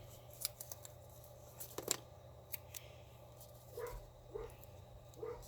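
Scissors trim small pieces of paper for miniature dollhouse books, giving a handful of crisp, close snips spaced irregularly in a quiet room.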